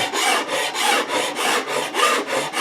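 A rough file rasps across a wooden drawer front in about six even back-and-forth strokes. The sound is loud and close, a steady rhythmic scraping with short pauses between passes.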